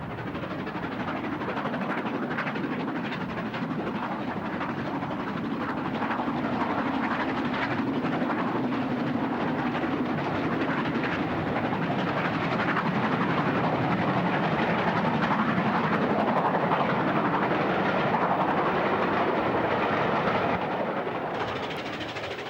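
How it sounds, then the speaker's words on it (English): A steam locomotive, the LMS Stanier Pacific Princess Helena Victoria, hauls a relief passenger train up a steep 1 in 75 climb. It gives a steady, loud, continuous labouring roar with rumble and rail noise. "Princess Helena Victoria is silhouetted against the skyline as it slogs up the 1 in 75 climb with the relief service for Glasgow"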